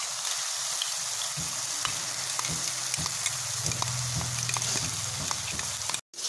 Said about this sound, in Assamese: এতিয়া মই ইয়াত দিম আদা নহৰুৰ পেষ্টখিনি দি দিছোঁ ইয়াত।